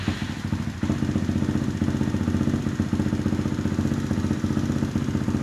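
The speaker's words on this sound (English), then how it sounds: "let me fire up the bike" A Honda Grom motorcycle engine catches and settles into a steady, close running idle with a rapid mechanical putter and light clatter throughout.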